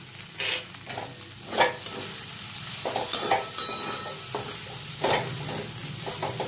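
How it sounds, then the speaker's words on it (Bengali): Spoon stirring grated coconut through a vegetarian vegetable curry with sesame-poppy paste and snake gourd in a hot pan, giving scraping strokes and light sizzling in uneven bursts, close and moderately loud, with no talking. "নারকেলটা দিয়েও কিছুক্ষণ নাড়াচাড়া করব।"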